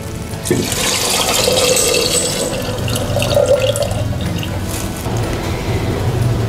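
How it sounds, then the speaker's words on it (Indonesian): Cooled boiled salt water pours steadily from a container into a jar of eggs being prepared as salted eggs, a continuous close splashing and gurgling stream with no voices. "Air garam yang kita rebus tadi, kondisinya sudah dingin. Kita tuang."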